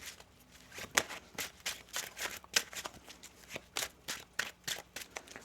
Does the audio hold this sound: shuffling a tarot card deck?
yes